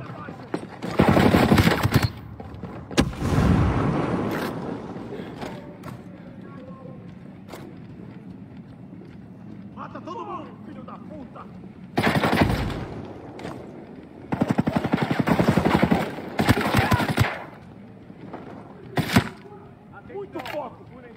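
Bursts of rapid automatic video game gunfire crackle in short volleys separated by pauses, with a voice talking quietly in between.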